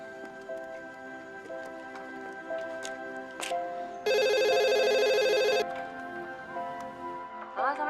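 A mobile phone rings during an outgoing call, one steady electronic ring of about a second and a half that stands out loudly over quieter background tones.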